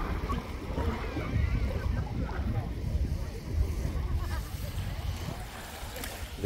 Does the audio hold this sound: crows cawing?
no